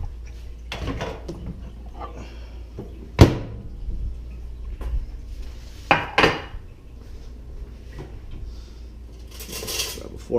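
Plates and cutlery clink and clatter while a breakfast of over-easy eggs, sausages and rice is plated, with sharp scattered knocks of dishes and utensils and a brief rustle near the end.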